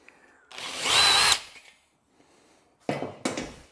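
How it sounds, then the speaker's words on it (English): Electric drill enlarging a hole in a piece of steel on a workbench, one sustained high whine of about a second followed by two short bursts after a pause, close and fairly loud. "Drill bit's loose."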